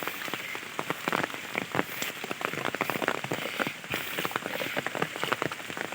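Dense rain patters on a hard surface, a steady close crackle of countless drops without pause.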